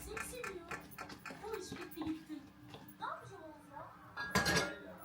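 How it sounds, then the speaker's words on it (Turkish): Carrots and other vegetables being stirred and tossed in a pan, with clattering of utensil against cookware in uneven bursts, a louder clank near the end, and a voice talking intermittently in a home kitchen. "Şimdi bunları kavurmaya başlayacağım."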